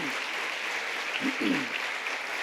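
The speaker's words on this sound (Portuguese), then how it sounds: "aplauda o Senhor bem forte" A church congregation applauds in a steady wash of clapping, moderately loud and sustained, while a voice briefly sounds in the middle of it.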